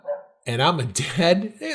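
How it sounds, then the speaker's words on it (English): A dog barks a few times, short yapping calls close by, overlapping a voice as he talks. "that's a dog"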